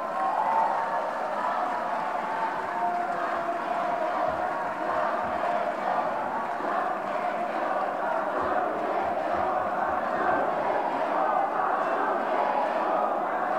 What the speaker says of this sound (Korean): 다시 한번 소중한 우리 당의 후보들에게 뜨거운 성원의 박수를